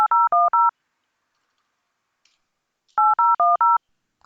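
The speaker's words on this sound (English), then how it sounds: "let me try making a call from this Cisco IP phone to Teams" Touch-tone dialing keys pressed on a Cisco IP phone, four clean beeps in a quick burst, then silence, then four more in another burst, with no talk.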